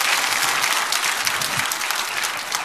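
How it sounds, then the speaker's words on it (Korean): A church audience applauds during a sermon, steady dense clapping from a large crowd throughout, loud and without a voice on top. "우리 박수하겠습니다"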